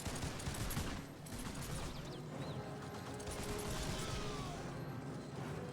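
Massed gunfire volley in a Warhammer: Mark of Chaos fantasy battle, heard as a dense, continuous crackle of shots over the roar of combat, with no pause across the whole stretch.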